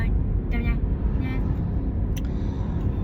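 A car's interior hums with a steady, loud road rumble throughout, with a person talking over the engine and tyre noise.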